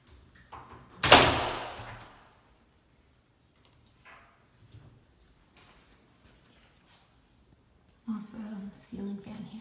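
A loud sliding rumble as one of three connected closet doors rolls along its track in an apartment, followed by quiet clicks and faint movement, then softer door sounds near the end.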